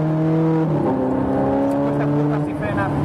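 A Ferrari 430 Scuderia engine drones loudly around the Nürburgring short track, its pitch shifting as it slows for a braking corner, and someone talks over it.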